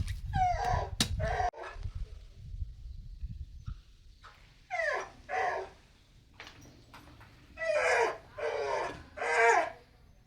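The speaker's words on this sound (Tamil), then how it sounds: "டாமி வந்து எனக்கும் இளநீ வேணும்னு அழுந்துட்டே இருந்தான்." A dog whines and whimpers while coconuts are cut at home. After some low rumbling noise, it gives repeated drawn-out whining cries in several bursts, close and fairly loud.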